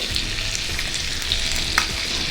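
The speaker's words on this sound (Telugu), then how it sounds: "మీడియం ఫ్లేమ్లో పెట్టుకొని ఫ్రై చేసుకోవాలి." Fish pieces frying in a shallow layer of oil over a medium flame, a steady close hiss and crackle of sizzling with small pops, no voices.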